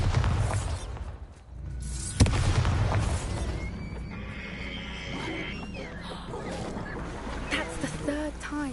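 The Bombarda spell explodes in the Hogwarts Legacy video game, a sharp, loud blast over dense game sound, creature noises and music, with voices speaking.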